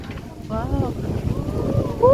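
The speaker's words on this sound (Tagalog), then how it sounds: "It's so windy" Strong wind buffeting outdoors on a walk, a steady low rumble across the whole stretch, with voices talking over it.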